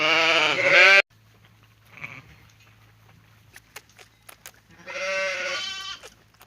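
Lambs bleat loudly and close by in a winter sheepfold, two long bleats separated by a quiet stretch with faint bleats and small knocks.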